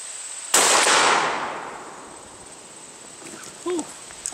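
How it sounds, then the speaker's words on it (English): A Stoeger Coach double-barrel shotgun with a 20-inch barrel fires a single loud 00 buckshot blast outdoors, with a sharp crack and a long fading rumble, followed by faint clicks and a short voice. "Just to get myself set here, shoot at the left target."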